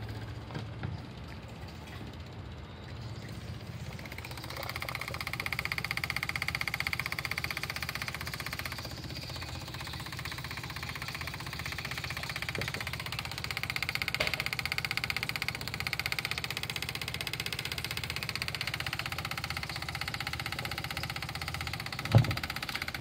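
An E8012S universal electric fuel pump, moving fuel from a secondary tank at about 30 gallons per hour, switches on and holds a steady, moderate mechanical hum and buzz, with one brief tap near the end.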